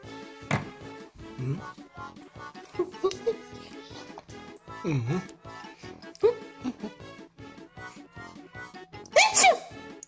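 Several sharp sneezes among snuffling and shuffling noises, close by, with a voice murmuring in between.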